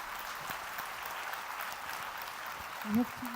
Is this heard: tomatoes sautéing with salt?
no